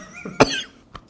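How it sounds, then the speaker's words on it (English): A single sharp, close cough bursts out with a short throaty tail, followed by a faint second small catch, in a quiet indoor room. "Damn this cough."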